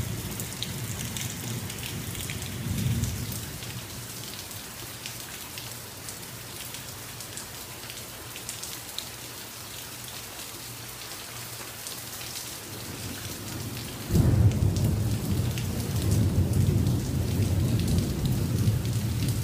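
A night thunderstorm in Florida: steady rain hisses on surfaces throughout, with low thunder rumbling early on and a louder, heavier surge of rain and rolling thunder in the later part.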